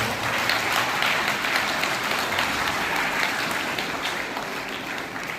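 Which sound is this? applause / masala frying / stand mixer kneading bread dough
applause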